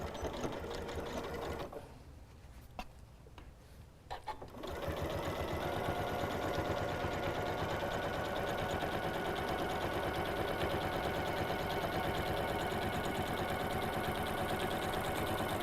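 Sewing machine stitching a quilted potholder, a loud steady mechanical whirr with rapid needle rhythm, pausing briefly near the start then running continuously.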